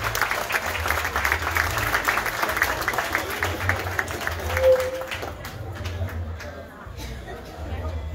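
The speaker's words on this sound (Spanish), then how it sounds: "fuerte el aplauso para Miguel Astorga." A crowd at a political rally applauds Miguel Astorga, a moderate wash of clapping mixed with chatter and a low, throbbing background, fading slightly toward the end.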